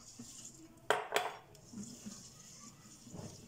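Spoon clinks and scrapes against a pan while chocolate pudding mix is stirred into milk: two sharp metallic knocks near the start, then soft scraping, close and fairly quiet, with no talking.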